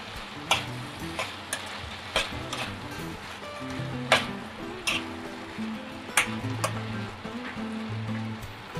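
Sambhar mixture is stirred in a pan on the stove, a spoon scraping the metal with sharp intermittent clinks over a soft continuous sizzle, close and moderately loud.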